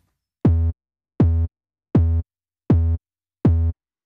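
Five evenly spaced synthetic kick hits from a triangle-wave oscillator in the U-he Zebra synth, each a short punchy thump with a fast downward pitch drop, separated by silence.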